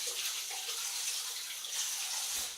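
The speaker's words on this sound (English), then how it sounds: "what I do is I actually wet my hands" Water running steadily from a tap as hands are wet while kneading sticky sourdough rye dough, a continuous close hiss of flowing water with no speech.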